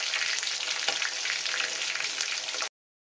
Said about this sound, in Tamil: நல்லா 2 பக்கமும் நல்லா திருப்பி போட்டு நல்லா ஃப்ரை பண்ணி எடுத்தாச்சுங்க